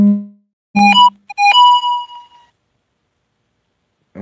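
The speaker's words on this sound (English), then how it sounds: "my phone went off, Andy" A worn, heavily used mobile phone sounds a loud electronic ringtone: a few bright chiming notes in quick succession, a pause of silence, then the tune beginning again.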